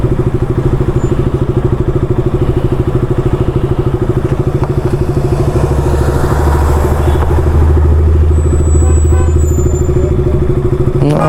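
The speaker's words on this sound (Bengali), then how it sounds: "না, একটা গাড়ি আসছে" Motorcycle approaching on a narrow mountain road near Pelling, a loud steady engine putter with a pulsing low throb that grows heavier toward the end; no talk.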